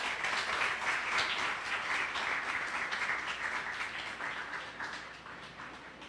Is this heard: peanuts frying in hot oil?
no